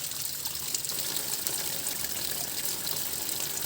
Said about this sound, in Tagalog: gumagawa po tayo ng inuman ng tubig